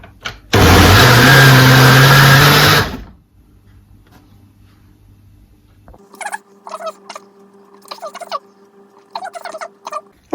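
A kitchen blender whirs loudly for about two and a half seconds while whizzing a smoothie with desiccated coconut, then cuts out abruptly, followed by a low hum and some quiet talking.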